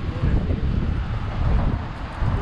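Strong wind buffets the microphone during a motorcycle trip, a loud, gusting roar with swelling and easing bursts and heavy low rumble throughout, with no clear voices.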